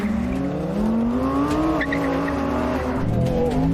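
A BMW M3 CS Touring and an Audi R8 GT launch off the line on cold tyres for a standing quarter mile, engines roaring loudly as tyres squeal with wheelspin, the revs climbing steadily.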